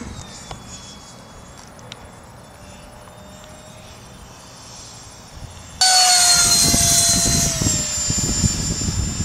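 A Hobby-Lobby MiG-15 radio-controlled model jet with fiberglass-reinforced wings flies past, a thin distant whine that suddenly swells into a loud, close high-pitched roar with a falling pitch as it passes.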